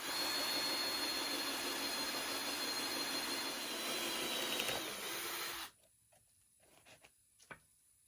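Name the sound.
drilling holes in wood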